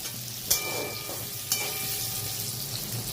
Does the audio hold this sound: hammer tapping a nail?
no